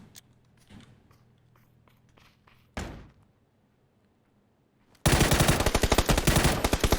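Gunfire in a PUBG match: a few faint distant shots and a sharp nearer crack, then a loud sustained burst of rapid automatic fire close by.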